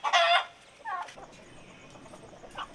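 Roosters cluck near and loud in a few short bursts, with quieter fowl calls and faint background noise between them.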